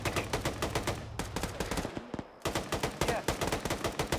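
Close, rapid gunfire rattles in a military shooter video game, with dense repeated bursts, a brief lull midway, then another sustained volley.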